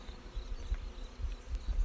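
Honey bees buzz around an open hive during a queen cage check, a faint, continuous close drone with small swells in loudness and no talking.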